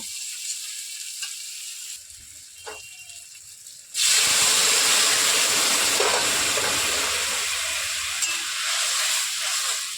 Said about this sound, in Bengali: এবার চানাগুলো দিয়ে দেব